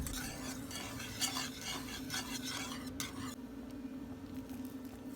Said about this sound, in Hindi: इसको मैं अच्छे तरीके से फेंट लूँगी ताकि इसमें लम्स ना बने